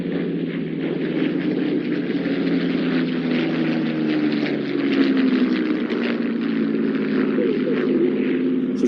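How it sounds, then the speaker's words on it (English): A Spitfire propeller warplane flies at an airshow, giving a steady droning engine hum that holds for the whole stretch at moderate loudness and slowly shifts in pitch as the aircraft passes. "The Spitfire is flying today."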